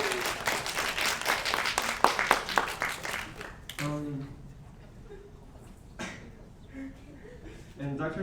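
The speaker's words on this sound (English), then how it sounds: "Round of applause, guys." Clapping at a school summer camp award dinner, a burst of applause from the gathered audience that fades after a few seconds, with voices and chatter carrying on over and after it.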